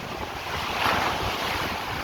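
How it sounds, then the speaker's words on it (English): Big Atlantic ocean waves surge and wash continuously under strong wind buffeting the microphone on a windy, rainy day, a loud and steady roar with a slight swell in the middle. "This is coming big waves now."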